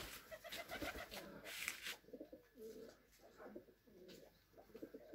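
Tame pigeons at a feeding spot coo softly in a series of low, rolling calls, with some wing flutter and rustling early on, heard close and fairly quiet.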